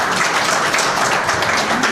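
Audience applause greeting a guest speaker at a Stichting Alzheimer presentation, steady dense clapping from a crowd filling the whole stretch at an even level.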